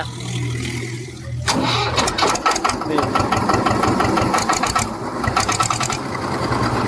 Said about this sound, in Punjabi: ਸਟਾਰਟ ਕਰਕੇ ਤਾਂ ਦਿਖਾ ਦੇ ਯਾਰ